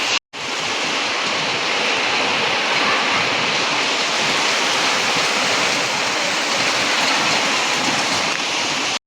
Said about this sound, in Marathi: एवढ्या जोरात पाऊस पडतोय तर दाखवतो तुम्हाला